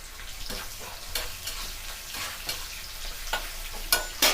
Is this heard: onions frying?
yes